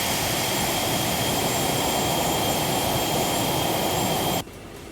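Embraer Phenom 300 jet engine in the X-Plane 11 flight simulator gives a loud, steady turbine roar with a high whine, then drops abruptly to a quieter hum near the end.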